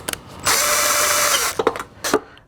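A power tool tightens the battery hold-down on a 2006 Subaru Forester: one loud close whir lasting about a second, followed by two short bursts.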